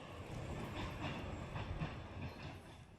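A Santa-themed tourist train pulls away from a remote, unstaffed rural platform reachable only by rail, a steady rumble with soft clickety-clack wheel noise that holds level throughout, with no voices.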